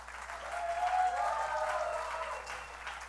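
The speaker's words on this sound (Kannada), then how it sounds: "ದಯವಿಟ್ಟು ಅವ್ರಿಗೊಂದು ಚಪ್ಪಾಳೆ." Audience applause at a Deepavali and Rajyotsava community celebration, a sustained wash of many hands clapping at moderate distance, swelling and then holding steady for a few seconds.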